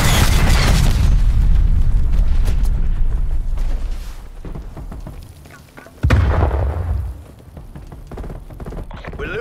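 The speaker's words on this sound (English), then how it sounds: "Incoming artillery." Incoming artillery strikes in the Call of Duty video game land as heavy, rumbling explosions, a loud sustained barrage that eases off before a sharp new blast around the middle and further booming impacts.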